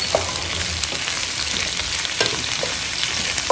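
Shrimp frying with garlic for hipon sa bawang, a dense continuous sizzle close up, broken by frequent stirring scrapes and clicks, with no talking.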